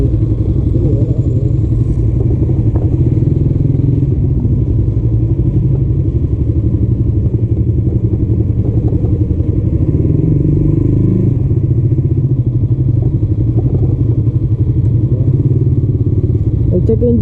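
A Suzuki GSX-S150 and a Yamaha R15 ride at night through Kalumala Heights in Bauan, Batangas, their engines a loud, continuous low drone with wind rumble and no break. Riders may be talking underneath.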